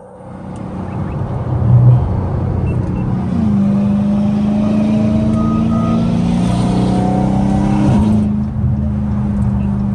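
A car accelerating on a freeway, its engine note climbing through a gear with a steady rising whine and a shift partway through, loud and close with road roar underneath and no talking.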